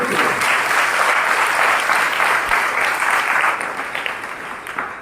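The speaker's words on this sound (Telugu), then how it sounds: "గట్టిగా చప్పట్లు కొడుతూ యేసుని స్తుతించుదాం" A church congregation claps loudly in praise of Jesus, a dense and continuous burst of applause that fades slightly toward the end.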